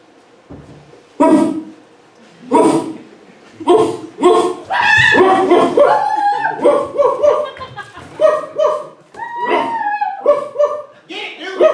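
A hunting dog barks in an audio play as it trees something, several loud bursts spaced apart with mixed voices, chuckles and theatrical sounds between them.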